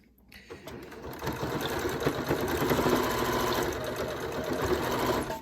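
A sewing machine runs steadily while stitching the seam of a fabric face mask, a continuous close, rapid mechanical whir that starts after a brief pause and holds for about five seconds.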